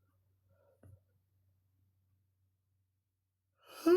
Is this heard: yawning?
yes